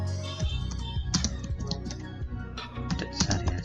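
Data being typed into a village administration travel-order form on a computer keyboard, with steady runs of key clicks and heavier thumps over a busy background, no speech.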